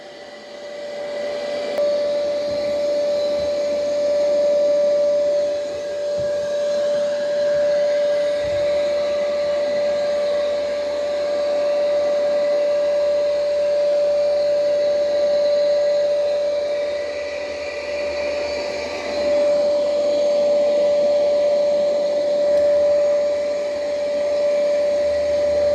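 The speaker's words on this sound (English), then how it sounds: "I do have it on its highest suction power possible." An Ecovacs T80 robot vacuum running at its highest suction power gives a loud, steady whining drone with a strong constant tone, continuous and close for the whole stretch.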